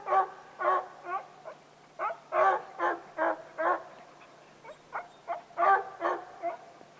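Pack of hunting dogs barking and baying at a bear up a tree, a steady run of repeated loud barks in bursts, close by, with no talk.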